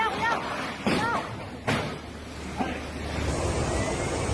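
Storm floodwater surges and rushes in Spain amid gusting wind, a continuous broadband roar with several dull thumps, with the wash building and growing steadier toward the end.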